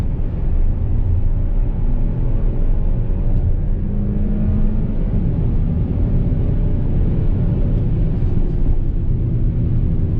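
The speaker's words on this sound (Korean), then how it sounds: "다이나믹 모드로 풀가속을 한번 해볼게요" An Audi A7 in dynamic drive mode accelerates at full throttle, its engine a steady, loud rumbling drone that holds for the whole stretch with a gently rising pitch and no talk over it.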